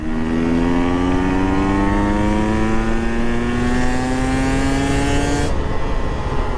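A KTM EXC 150 two-stroke dirt bike engine revs steadily upward in pitch, loud and close, then cuts off sharply near the end.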